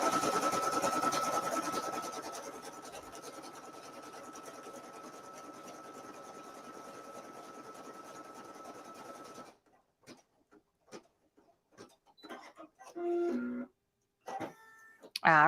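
Embroidery machine stitching a four-leaf clover design on felt, a steady mechanical whirring rhythm that runs loud for about nine seconds and then stops, followed by scattered handling clicks and brief speech.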